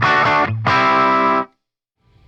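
An electric guitar rings out two loud, close chords through a Fender Champion 50XL amp on its crunch setting, the second held briefly before being choked into silence.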